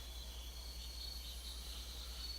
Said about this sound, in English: I can only barely even hear the buzzing of insects in the trees.